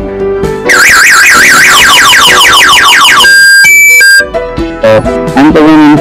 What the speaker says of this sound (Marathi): आपण बटन दाबल्यानंतर अँटीथिप वापर. अलार्म ऑन दाखवलं की